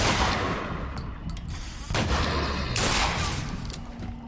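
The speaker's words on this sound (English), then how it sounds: "Who the fuck is shooting at me?" Gunfire in a tense confrontation, with dense, loud bursts of shots and booms running through most of the stretch amid a noisy scene, with a few sharper cracks standing out.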